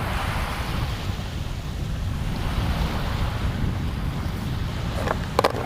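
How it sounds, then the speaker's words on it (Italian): Wind blows steadily across a boat at sea during fishing, a constant rushing roar buffeting the microphone, with water sloshing beneath and a couple of brief knocks near the end. "C'è sempre vento."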